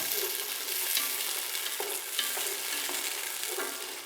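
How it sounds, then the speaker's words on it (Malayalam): Fresh green peas sautéing in a pan for mushroom fried rice, a close, continuous bright sizzle with a spatula stirring and scraping through it, no talking. "പട്ടാണി നല്ലോണം നമുക്കൊന്ന് വഴറ്റിയെടുക്കാം"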